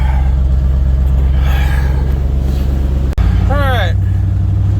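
A Ford F-350 truck engine idles with a low, steady rumble on a test drive after sitting unused for a long time and still running a little cold; someone speaks briefly over it.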